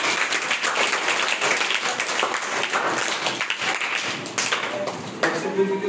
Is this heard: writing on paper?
no